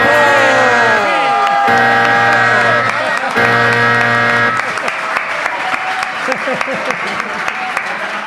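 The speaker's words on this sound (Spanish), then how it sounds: "Un aplauso enorme para Lucho" A loud crowd applauding and cheering, with a sustained tone at the start that cuts out, then dense clapping and shouts continuing steadily.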